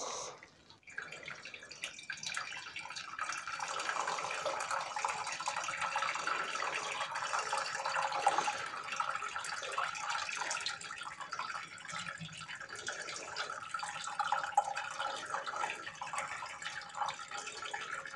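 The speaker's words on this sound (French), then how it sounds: "sur la passoire, en fait, je vais verser l'eau chaude que j'ai chauffée au préalable à 75 degrés" Hot water heated to 75 degrees poured through a strainer over spent brewing grains while making a Christmas beer from an 8-litre kit; a steady, continuous trickle and splash of liquid runs throughout, close and moderately loud, with no talk.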